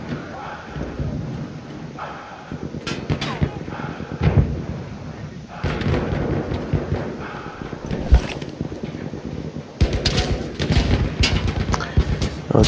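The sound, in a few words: grenade explosion and gunfire in video game Battlefield 1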